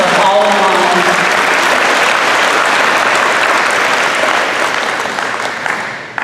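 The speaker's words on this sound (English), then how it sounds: "a big round of applause for Jill because she does keep us all in line" An audience at a nursing capping and pinning ceremony breaks into loud, sustained applause, dense clapping that fills the hall and holds for several seconds before thinning slightly toward the end.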